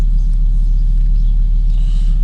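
A Volvo V70 engine idles after a cold start, giving a steady, close, low rumble that holds even throughout with no voices over it.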